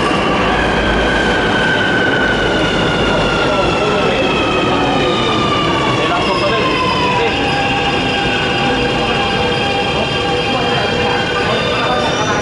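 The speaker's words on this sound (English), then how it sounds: "The train to South Horizons is arriving." MTR South Island Line train pulling into a station, loud and close, with rumbling wheels, rising and falling squeals and a drawn-out brake whine, while a recorded announcement plays over it.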